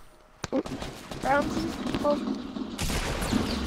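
Pump shotgun blasts from a Fortnite Battle Royale match, a few sharp loud shots fired in quick succession amid other game noise, with a voice talking over them.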